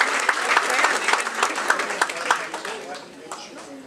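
Cruise ship audience at a Captain's Circle gathering on a Princess cruise claps in a lively burst that gradually thins and fades, with voices heard over the tail.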